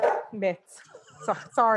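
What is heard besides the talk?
dog barking at home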